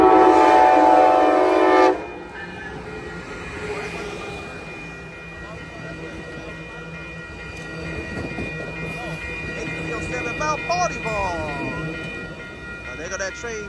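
An Amtrak passenger train's horn blares for a couple of seconds at a railroad crossing in Oakland, California, then the rumble and squeal of the passing train carries on steadily, with faint voices underneath.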